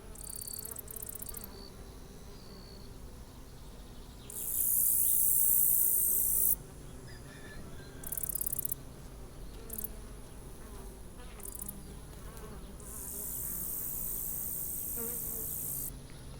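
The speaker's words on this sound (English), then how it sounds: "It literally sounds like 10 beehives over here." Dense swarm of honeybees and native bees buzzing close around flowering African blue basil, a steady insect drone with bursts of louder nearby buzzing wings passing by, no voices.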